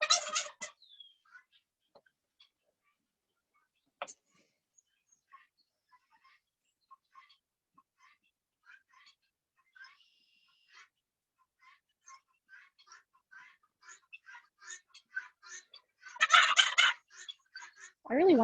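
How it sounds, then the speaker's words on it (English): Birds call outdoors in repeated short bursts with quiet gaps between them, and turkey-like gobbling rises loudly near the end. The calls sound moderately close, with no talking. "I really wonder what these birds are thinking and saying."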